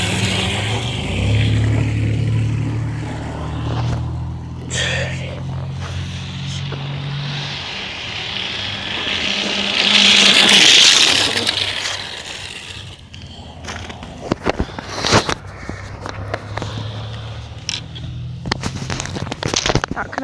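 An SC10RS short course snow machine, a small radio-controlled snowmobile, whines with a steady motor buzz that swells and fades as it passes, followed by scattered clicks and thumps.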